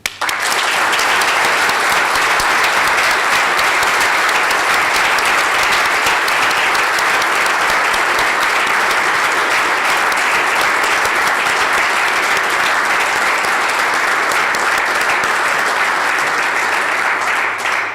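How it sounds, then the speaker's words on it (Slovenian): An audience at a state award ceremony for volunteers applauds the plaque recipients with loud, sustained, dense clapping that stays steady for well over fifteen seconds. "En velik aplavz za vse današnje prejemnike plaket."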